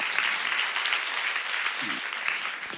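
Church congregation applauding during a sermon, a dense, even wash of clapping held throughout at moderate loudness, with faint voices beneath.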